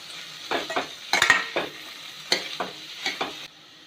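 Chopped mushrooms being stirred into sautéed tomato and onion in a pan for mushroom masala, a few quick scraping strokes over a light sizzle, close up and without talk.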